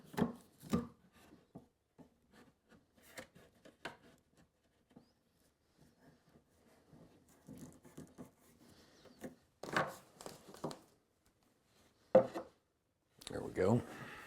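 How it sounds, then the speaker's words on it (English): Glued wall cabinet parts being clamped in a workshop, with scattered close knocks, rubs and clicks of wood and clamp hardware, sparse and irregular with quiet gaps. "So we'll clamp this in now."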